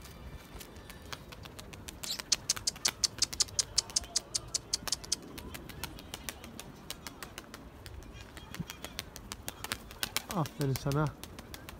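A Perçemli Sabuni pigeon flies in and lands, its wings giving a run of sharp, rapid flapping claps up close before settling, with someone speaking nearby.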